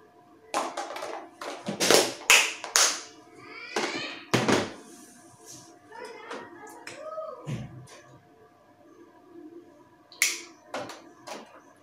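Soft, close taps and thunks come in irregular bursts as a toner-soaked cotton pad is patted over a face during a microdermabrasion facial, with some talking around the pats.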